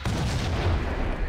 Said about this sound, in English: I didn't even know that was an explosive barrel.